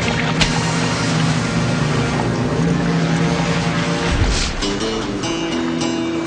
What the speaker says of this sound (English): they hear the sound of an outboard motor